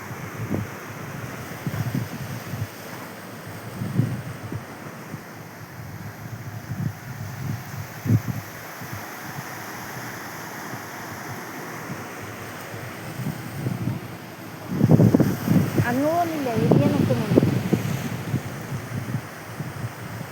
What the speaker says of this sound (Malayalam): ഇതാ വെള്ളം വന്ന് അടിക്കുന്നതാണിതില്ലേ കല്ലിന്